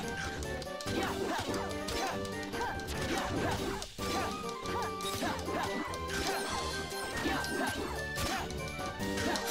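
Snapper Dog Heartless enemies bark, yip and snap during a Kingdom Hearts 358/2 Days battle, repeated sharp barks and whacking hits over dense, loud in-game music.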